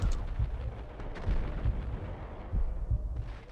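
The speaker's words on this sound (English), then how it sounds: "I see bullets fly." Rapid bursts of gunfire from Max Payne gameplay pop repeatedly in an irregular rhythm over a dense, rumbling game background.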